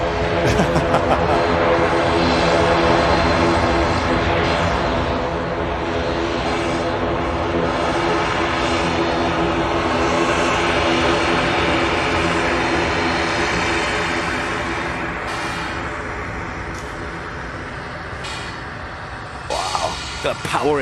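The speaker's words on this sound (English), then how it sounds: "Sounds like an ATR." An ATR turboprop at an airport gives a broad, steady engine drone with a layered tonal hum, holding loud for about twenty seconds before easing slightly, while someone talks over it.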